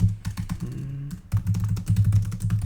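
Close computer keyboard typing, a quick run of uneven key clicks with a brief pause partway through, entering a comment, no voices.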